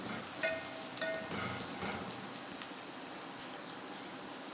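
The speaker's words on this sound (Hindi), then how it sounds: "हम इसको ब्राउन करेंगे, गोल्डन ब्राउन करेंगे प्याज को।" Chopped onions frying in oil in a pan, browning to golden for an aloo gawar ki sabzi, give a soft, steady sizzle with a few sharp clinks of a utensil near the start.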